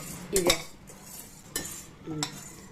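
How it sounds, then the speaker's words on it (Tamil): Urad dal dry-roasting in a plain pan with no oil, with three brief bursts of scraping and clinking as it is stirred, separated by quiet gaps. "வெறும் வாணலிலேயே அப்படியே வறுத்து எடுத்துக்கோங்க"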